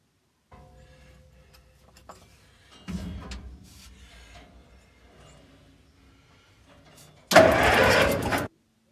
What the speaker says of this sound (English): Now I put the switch on, I'm going to crank,